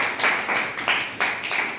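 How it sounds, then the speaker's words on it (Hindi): Students at a school story-recitation event clap for a group of participants. The applause comes in a quick, uneven run of sharp claps that rises and falls, with no voices over it. "इनके लिए जोरदार ताली।"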